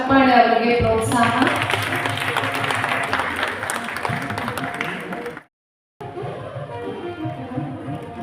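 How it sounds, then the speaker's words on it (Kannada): An audience at an International Women Achievers Award ceremony held by the Cubbon Park Walkers Association in Bengaluru breaks into loud, sustained clapping. It cuts out abruptly for a moment near the end and then resumes more softly. "ನಿಮ್ಮ ಚಪ್ಪಾಳೆ ಅವರಿಗೆ ಪ್ರೋತ್ಸಾಹ."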